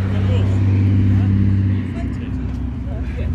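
A Chevrolet Corvette engine idles with a deep, steady rumble close by, easing to a lower, rougher tone partway through, with faint background chatter.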